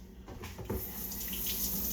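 A kitchen tap runs while tomatoes are rinsed under it, a close, steady splashing rush of water with a brief clatter near the start.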